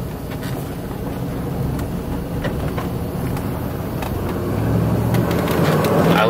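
A 1990 Cadillac Seville with a 4-speed overdrive transmission drives at low speed, its engine and road noise a steady low rumble that swells slightly near the end as it picks up toward 25 miles an hour.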